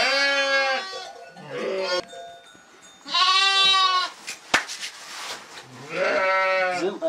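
A lamb bleats three times in clear, wavering cries, each about a second long, with quieter rustling and handling sounds in the gaps between them.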